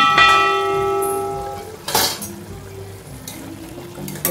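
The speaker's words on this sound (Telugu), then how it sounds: "చూద్దాం మూత తీసి." A metal pot lid clinks and rings as it is lifted off a cooking mushroom curry, followed by a soft scrape and quiet sizzling from the pot.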